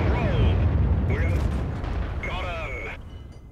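An artillery shell hits a tank in World of Tanks during a match, a deep booming impact with a long low rumble that fades over a few seconds, with game voice lines and whistling effects layered above.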